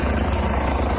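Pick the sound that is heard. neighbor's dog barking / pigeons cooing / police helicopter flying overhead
police helicopter flying overhead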